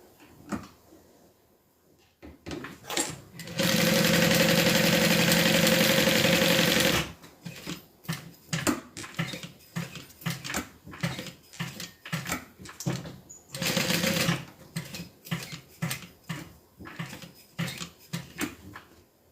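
A sewing machine stitches down a small piece of a custom-made item in a steady, loud continuous run of a few seconds, then a second shorter burst, with handling clicks and rustles between.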